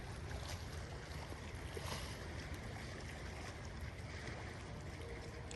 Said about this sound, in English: Just enjoying the sounds of the waves.